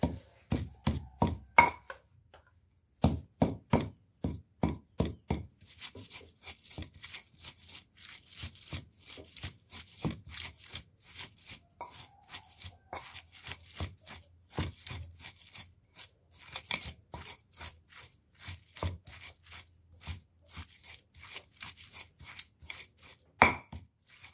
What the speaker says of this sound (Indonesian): laos yang sudah saya potong-potong ini yang sebagian ditumbuk, nanti yang sebagian cukup digeprek